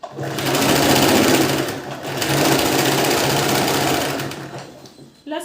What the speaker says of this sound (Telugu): పాదం అనేది పైకి లేపుకుని అప్పుడు సెట్ చేసుకుని మళ్ళీ పాదం దించేసి అప్పుడు కుట్టుకోవాలి